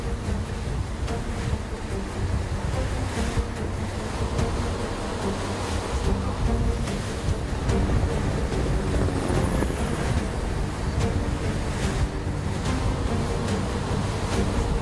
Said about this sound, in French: Le centre régional décide alors de dépêcher sur place un hélicoptère.